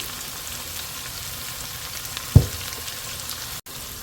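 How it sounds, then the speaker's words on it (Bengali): Onion frying in a pan until light brown, an even sizzle with one brief louder clatter partway through and a momentary cut near the end. "এখন পেঁয়াজটা একটু হালকা বাদামি করে নেব"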